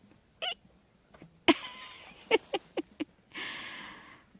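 A house cat meows several times close by, a short call followed by a string of brief mews with quiet gaps, ending in a longer breathy sound.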